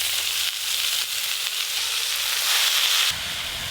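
Chopped bathua greens dropped into a hot pan of frying potato and eggplant with turmeric and salt, a steady loud sizzle that swells briefly near the end and then settles, with no voices.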